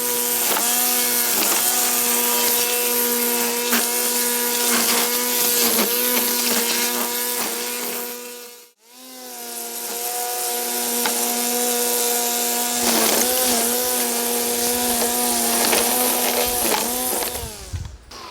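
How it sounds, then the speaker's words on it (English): A Stihl FSA60R battery strimmer cuts along the edge of a path outdoors, its steady high whine running close and loud with a brief dip partway through before picking up again. "strimming along the edge of a path is very straightforward"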